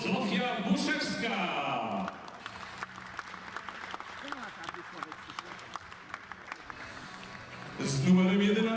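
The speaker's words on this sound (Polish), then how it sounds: "Wielkie brawa dla nowej zawodniczki w Darze Wieksy." An audience at a GKS Katowice team presentation gives a new player a long round of dense clapping, steady and fairly close, framed by an announcer's voice at the start and end.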